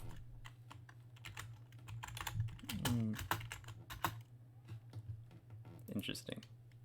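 Quick clicking keystrokes on a computer keyboard come in short irregular bursts close up over a low hum, while a person talks and makes voiced sounds across the middle.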